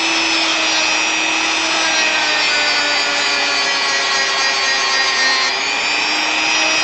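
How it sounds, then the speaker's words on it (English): Steady, continuous abrasive rubbing while sanding a wooden model platform, close and loud for the whole stretch with a sustained whining harmonic tone throughout and no pauses. "So just take like 5 minutes to sand this thing."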